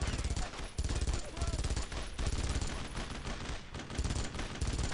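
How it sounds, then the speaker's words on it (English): Heavy MG42 machine gun fire from a World War II shooter game, a dense, loud, continuous stream of rapid bursts with overlapping gunshots and battlefield noise throughout. "I would be insane not to turn a machine gun on them."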